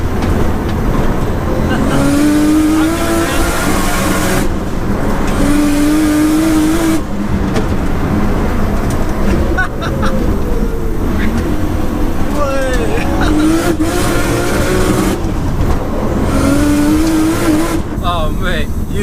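A 700bhp Nissan R33 Skyline's engine pulls hard and loud under acceleration, rising revs sweeping up repeatedly across the run with brief lifts between gear changes and road noise throughout, while a voice speaks over it.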